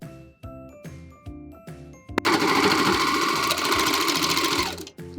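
Rapid, even mechanical chatter of a sewing machine stitching a rib knit sweatshirt hem, loud and close for about three seconds, with softer rhythmic ticking before it starts.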